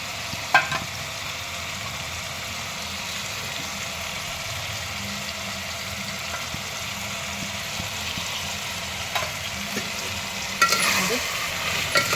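Vegetables with ginger-garlic paste fry in a pan for pulao, giving a steady soft sizzle with occasional scrape and clink of stirring, close and fairly quiet, with no talk.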